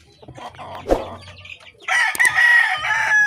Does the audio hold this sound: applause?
no